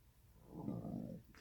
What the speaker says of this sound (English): Burp number 1.